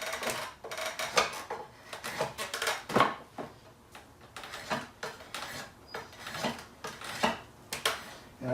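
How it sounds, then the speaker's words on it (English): Corners are shaved off a wooden tenon to form an octagon shape, a series of short, crisp scraping strokes in an uneven rhythm, close and fairly loud, with brief pauses between cuts and no talking. "So now I'm just knocking the corners off to create kind of an octagon"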